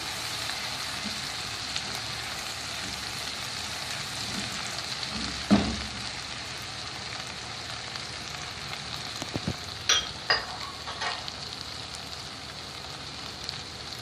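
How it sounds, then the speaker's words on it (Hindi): Dal or masala sautéing in a pan for dhaba-style chana and mash dal, a steady soft sizzle throughout with a few clinks and stirring scrapes near the middle and end, no talking. "थोड़ा सा इसको सौते करें"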